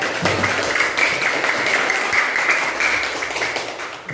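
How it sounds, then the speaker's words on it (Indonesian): A school classroom claps together in a steady burst of applause for a teaching presentation, continuous hand clapping close by with no talk over it. "tepuk tangan dari kelas dulu untuk media"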